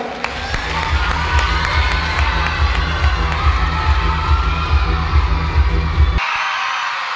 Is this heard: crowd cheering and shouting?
yes